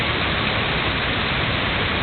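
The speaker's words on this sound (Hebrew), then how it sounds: "גשם יורד." Tropical rain pours down in Costa Rica as a dense, even hiss that stays steady and fairly loud throughout without any break.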